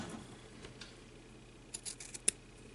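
Scissors snip a piece of material for a handmade candy bar gift with a few quick, soft cuts close by in a quiet room, no one speaking.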